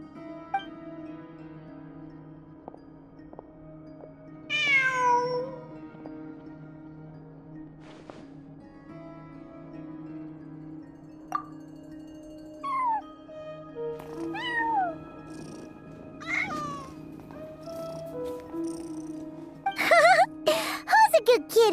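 Cat meowing in Genshin Impact, a handful of distinct drawn-out meows scattered across the stretch over a steady musical background drone, with a few brighter chirpy calls near the end.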